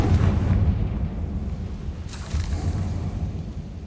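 A Confringo spell explosion in the video game Hogwarts Legacy, a deep rumbling blast that hits at the start, fades, then swells again with a second burst, heard without talking.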